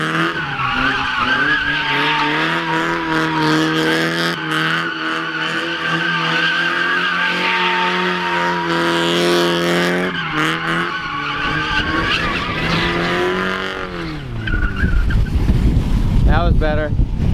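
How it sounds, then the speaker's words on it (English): A Nissan 240 drifting with clutch kicks on freshly fitted engine mounts: a loud, sustained engine drone with strained tire squeal runs steadily for about ten seconds, dips, then surges again as the car slides, with no talk over it. "Just turn your wheels all the way and clutch kick it."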